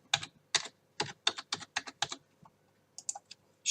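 Typing on a computer keyboard, a quiet close run of about a dozen separate key clicks in uneven bursts, with a short pause before a few final taps and no talk.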